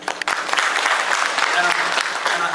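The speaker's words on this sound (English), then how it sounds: "please, give a round of applause for her" An audience applauds at a community program on TPS held in Manassas, Virginia, with dense, steady clapping throughout that starts abruptly and stays loud and close.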